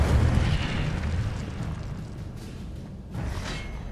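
Fiery spell blast from the Incendio charm in Hogwarts Legacy, a loud explosive burst that swells then fades into rumbling crackle, with a second whooshing burst near the end.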